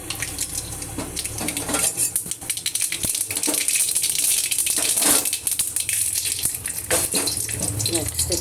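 Mustard seeds and green chilies hit hot oil in a wok for a mango dal, giving a steady crackling sizzle with scattered pops, mixed with close clatter of pots and utensils in a home kitchen.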